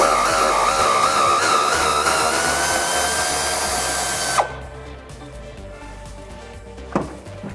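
Air ratchet spinning off 13mm bolts on a 2018-2019 Mustang GT during a driveshaft swap, a loud continuous pneumatic whir that cuts off abruptly, followed by quieter clanks of tools.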